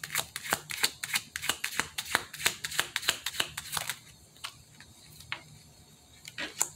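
Tarot cards being shuffled: a rapid run of crisp riffling card snaps for about four seconds, then a few scattered taps and flicks, close and fairly quiet.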